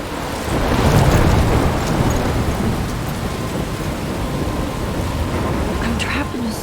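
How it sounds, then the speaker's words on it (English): Dense rain and rolling thunder from a storm in the video game Life is Strange, loud and enveloping, with a heavy rumble swelling early and a steady downpour continuing throughout. "I'm trapped in a storm?"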